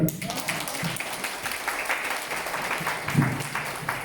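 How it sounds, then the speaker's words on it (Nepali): An audience breaks into applause at a talk program, heard as a dense, continuous wash of clapping from many hands, moderately loud and nearby, lasting throughout with a brief voice near the end. "प्लिज उहाँको लागि जोरदार ताली"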